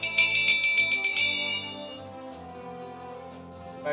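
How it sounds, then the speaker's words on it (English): A gong is knocked over, with a bright metallic clang followed by a long shimmering ring that slowly fades, plus a few faint knocks and a small thump at the end. "I knocked my gong over"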